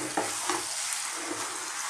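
Mushroom and sweetcorn cream pasta sizzles hard in a pan over high heat, a steady close hiss broken by a few soft scrapes and knocks as it is stirred through.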